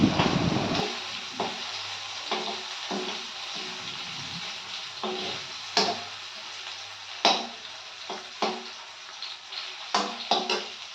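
Ridge gourd and matar dal frying in a pan, a steady close sizzle with intermittent scraping and stirring knocks throughout; no talking.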